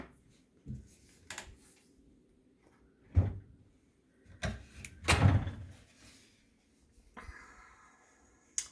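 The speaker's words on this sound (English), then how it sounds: "I'll open the doors for you so you can see better." Wooden cupboard doors in a family room are opened, giving a few quiet, separate knocks, clunks and soft creaks spaced across a near-silent room.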